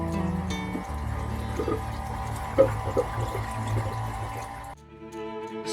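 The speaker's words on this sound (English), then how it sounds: "and out the water goes" A shower pump on a boat pushes water out through the shower hose, making a steady low motor hum with splashing, running water above it, ending in a short quieter stretch.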